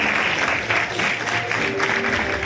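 At a short film award distribution ceremony, a large audience gives a steady, dense round of clapping that lasts throughout, loud and filling the hall, with no voices standing out.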